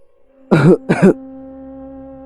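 Two short, harsh coughs close by, one after the other, over a faint steady hum, then quiet.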